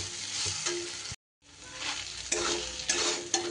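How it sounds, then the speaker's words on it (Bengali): Dal lentils are stir-fried in a wok, a loud close sizzle with scraping stirring strokes that swell and ease in rhythm, broken by one brief gap. "ডালটাকে এইভাবে কড়াই নাড়াচাড়া করে ভেজে নেব"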